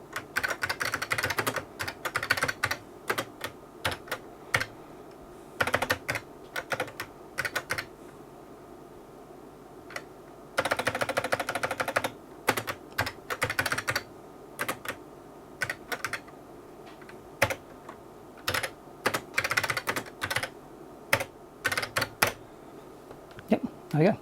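Rapid clattering keystrokes on a 1980s IBM Model P70 luggable computer keyboard, typed in irregular bursts and short runs with brief pauses, close and crisp over a low steady machine hum.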